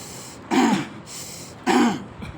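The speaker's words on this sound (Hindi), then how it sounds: "पूरे जोर से नाक से हवा खींचे और मुंह से पूरे जोर से खांसी करे।" Two forceful coughs or hard throat-clearing bursts about a second apart, each a loud rough expulsion of air over a steady background hiss, demonstrated during a first aid CPR training session.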